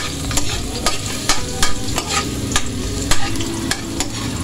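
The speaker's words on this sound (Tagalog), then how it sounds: "Hintayin lang po maging golden brown ang bawang mga ka-vlogs para hindi mapait." Garlic frying in a pan for pancit canton, a steady close sizzle broken by repeated scraping stir strokes, with no voices.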